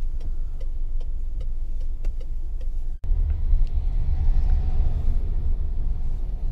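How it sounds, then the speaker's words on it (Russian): A tram climbs uphill on a city street with a steady low rumble and a run of faint ticking clicks, then a brief dropout and a louder, rougher rolling roar as it passes close. "Трамвайчик, смотри, на подъем."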